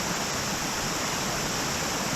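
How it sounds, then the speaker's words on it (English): Gunderson Bluff Shelter Falls in the Ozark National Forest gives a steady, dense roar of falling water, a continuous broadband rush with no breaks, close and fairly loud. "this is a gorgeous waterfall too"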